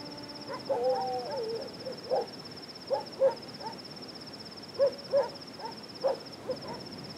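A bird calls at night in repeated soft hooting notes, spaced unevenly, over a constant thin high insect-like whine.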